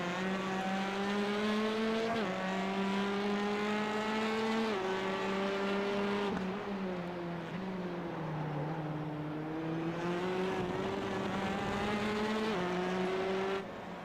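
Race cars in a sim racing eSeries event run close together, their engines holding a steady high whine that climbs and drops with gear changes and throttle, continuous and loud with no talking.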